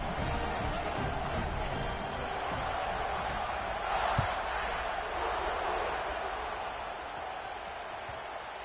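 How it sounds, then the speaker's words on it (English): Football stadium crowd at a college game kickoff, a broad, steady roar of cheering fans filling the air at moderate distance, sustained for several seconds with a brief thump near the middle. "this crowd now ready to get behind them"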